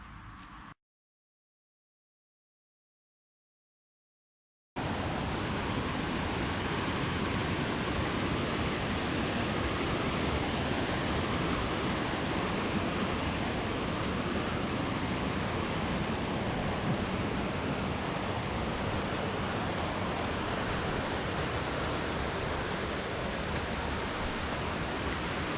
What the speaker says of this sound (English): Looking down on the Sleepy Hollow waterfall.